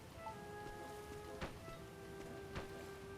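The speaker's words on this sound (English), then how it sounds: "Rain." Rain falls in the video game Dragon Quest Builders 2 as a faint, steady hiss, with a couple of brief louder splashes or rumbles standing out from the wash.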